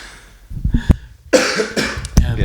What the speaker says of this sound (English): Sorry, I still got that from cough from last week's episode.